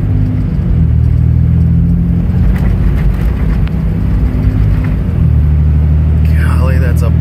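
A Cummins-powered truck with an Allison transmission downshifts as it slows on a wet interstate on-ramp, giving a loud, steady low engine drone that shifts pitch partway through, with someone talking over it.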